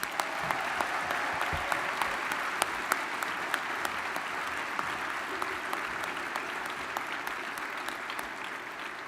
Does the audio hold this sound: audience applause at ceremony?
yes